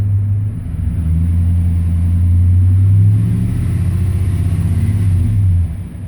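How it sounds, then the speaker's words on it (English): A 2005 Chevy Silverado engine is revved up from a low idle, its deep exhaust note swelling into a steady, close rumble before dropping back down. "But then I'll go ahead and give her some gas. So she's got a pretty nice exhaust note on it."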